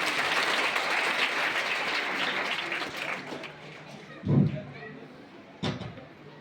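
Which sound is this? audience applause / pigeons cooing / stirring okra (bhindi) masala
audience applause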